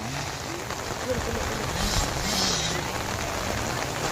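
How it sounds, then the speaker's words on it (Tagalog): Heavy rain pouring during a muddy 85cc motorcycle race, a steady broadband hiss that builds slightly louder midway, with a commentator's voice and engine noise mixed beneath. "lumakas yung ulan"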